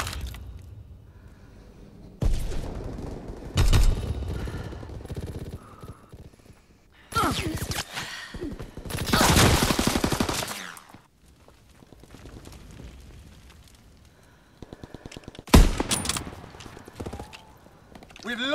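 Heavy bursts of Call of Duty WW2 battlefield fire come in loud, dense blasts separated by quieter stretches, with a rumbling, booming edge and faint voices shouting orders under the noise.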